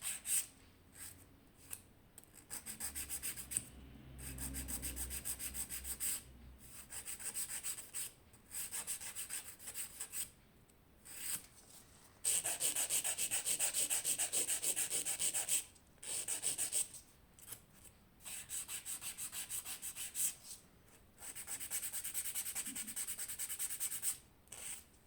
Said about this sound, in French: Je vais simplement relimer mes bords.